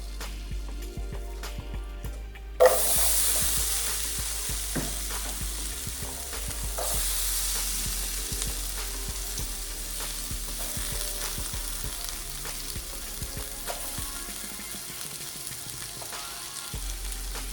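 Potatoes frying in a pan for a chorizo breakfast burrito, a loud steady sizzle that bursts up as they hit the hot oil, with occasional stirring scrapes and no talking.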